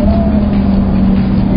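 A Cadillac CTS-V engine pulls hard under load during a fast drive, with a loud, steady close-up drone and a faint rising whine throughout.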